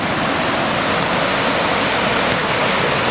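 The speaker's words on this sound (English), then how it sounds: "And you can hear the water down there." Water rushing steadily through a valley near a hydro plant, a constant broadband hiss and roar with no breaks, heard from some distance and without talk.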